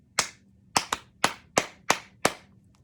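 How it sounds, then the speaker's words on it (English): A short rhythm clapped by hand for a kids' music class, six bright close claps including one quick double, each snapping out and decaying fast over near silence, with no voices. "We're going to clap it back together"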